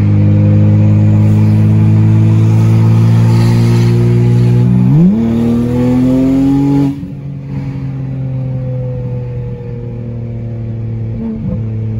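A BMW 335i fitted with upgraded turbos and open downpipes accelerates hard, its loud engine note climbing steadily. Around mid-clip there is a sharp upshift, then the engine drones on at lower revs, close by and with no talking.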